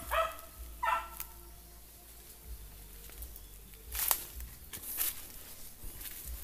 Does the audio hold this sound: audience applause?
no